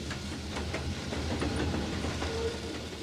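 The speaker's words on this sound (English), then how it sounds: "The engineer pulls into a siding while a westbound freight passes by." A westbound freight train rumbles past at a distance on the main line, a low, steady roll with faint rhythmic clacking of wheels.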